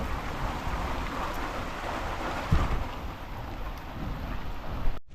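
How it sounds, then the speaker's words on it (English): Steady rain pours in the Jamaican countryside, a dense continuous hiss, with a brief low thunder rumble in the middle and no talk. "Rain and thunder and lightning."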